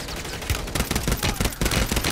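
Rapid bursts of gunfire from a tuned shotgun in Call of Duty: Warzone, loud and dense, with repeated close shots hammering in quick succession.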